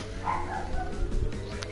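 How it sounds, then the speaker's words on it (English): Muffled barking from a pug somewhere upstairs comes in a brief burst of a few yaps, faint and partly buried under continuous background music. "if you can hear the barking upstairs, that's Xander."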